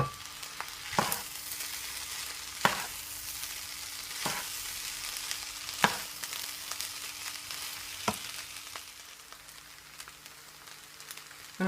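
Prawns frying in a hot pan for shrimp fried rice, a steady close sizzle with sharp pops and crackles every second or two, no voices.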